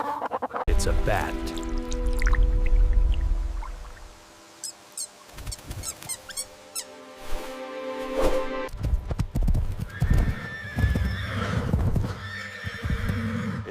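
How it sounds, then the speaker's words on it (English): A horse whinnies loudly near the start, then hooves clip-clop in an irregular rhythm with further snorts and neighs, close and clear throughout. "It's a horse."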